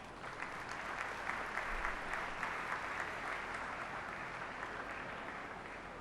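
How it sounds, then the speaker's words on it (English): A convocation audience applauds in a large hall, a steady, dense wash of many hands clapping at moderate distance that holds evenly throughout. "We deserve to give ourselves a huge round of applause."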